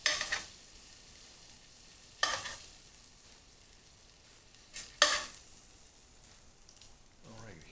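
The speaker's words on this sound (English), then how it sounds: "We're going to bring the zucchini in and we'll start cooking the zucchini." Zucchini cooking in a hot pan with Louisiana spices, a low simmering sizzle punctuated by three sharp bursts of crackling spatter as pieces are stirred or added.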